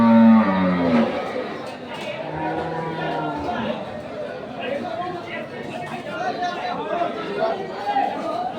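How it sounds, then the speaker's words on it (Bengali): A white dairy cow at a rural cattle market in Kaharol, Dinajpur, gives one short, deep moo at the start. Close market chatter and talking follow throughout. "এই পাশে একটা সাদা গরু আবার এটাও জাতে মাস্টার"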